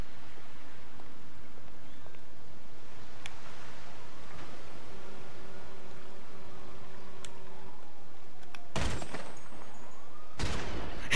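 Gunfire from the video game GTA 5, with a few sharp isolated shots early on, then two loud, dense bursts of rapid fire near the end, set against low background game sound.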